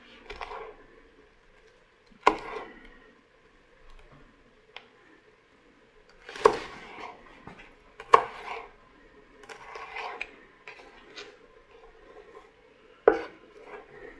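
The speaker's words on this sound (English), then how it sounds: "we're just going to slice it again, about the same size slice as you did with the onions" A knife slices through a vegetable on a cutting board, cut into pieces about the size of onion slices, with scattered sharp taps and soft scraping spaced irregularly, close and fairly quiet.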